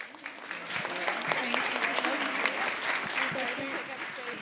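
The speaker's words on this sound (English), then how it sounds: "one round of applause for them and their awesome podcast" An audience at a live podcast show in Oakland, California claps in a steady, dense round of applause with scattered cheers and voices mixed in.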